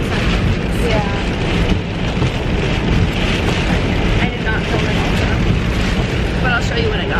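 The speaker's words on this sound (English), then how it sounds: "If you can hear me over all this rain." Heavy rain pours with gusting wind on a late-winter day, a dense, steady roar of drops and buffeting that fills the whole stretch, loud and close, with faint voices buried underneath.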